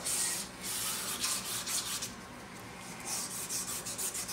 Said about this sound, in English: Sand those as well.